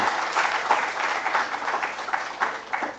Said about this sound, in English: So I think they deserve a clap.